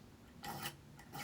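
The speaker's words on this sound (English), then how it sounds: "I'm using a fine triangle file here." A fine triangle file rasps on a metal LARP helmet in two short, faint strokes, quiet and close, with no talking.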